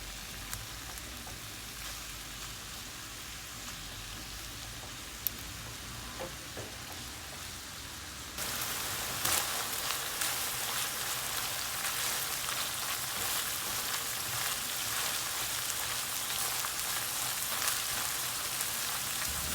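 About 750 grams of minced meat browning in a pan, a steady dense sizzle and crackle that holds throughout and grows noticeably louder partway through, with no talking.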